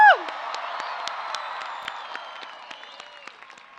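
A graduation commencement crowd cheers and applauds after a sharp opening whoop, with dense steady clapping, scattered shouts and whistles that slowly thin out over a few seconds.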